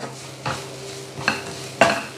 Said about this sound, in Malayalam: നന്നായിട്ട് നമുക്കൊന്ന് മിക്സ് ചെയ്തെടുക്കാം.